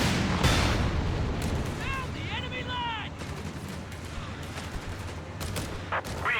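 Battle in the Company of Heroes 3 strategy game as a Panther tank attacks riflemen, with continuous rumbling explosions and gunfire, rapid bursts and chirping effects, under a commentator talking over the action.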